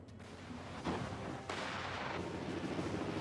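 Artillery and gunfire from large Russian military drills rumble in the distance, with several heavy booms over a continuous low roar and wind buffeting.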